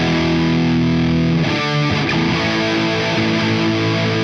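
Electric guitar driven through an EarthQuaker Dunes overdrive pedal with gain, volume and tone knobs at noon into a Marshall-style PV Windsor amp, thick distorted chords held loud and continuous.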